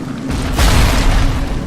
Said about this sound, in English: Something is shooting me with rockets.